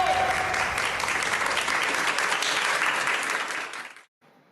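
Dense applause from a crowd of people at a protest, loud and sustained as one continuous wash of clapping that fades out abruptly near the end.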